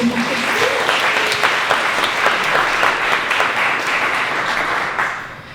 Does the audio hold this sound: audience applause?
yes